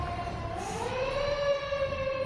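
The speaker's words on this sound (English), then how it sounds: "Probably an ambulance." A siren wails steadily in the distance, its tone gliding slowly upward over a constant low background rumble.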